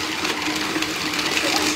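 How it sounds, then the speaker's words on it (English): A small motorized mini food processor whirs and rattles steadily as dried prunes and dates are chopped inside, close up and continuous. "I got my mini food processor here, and I'm going to put the prunes and the dates in there"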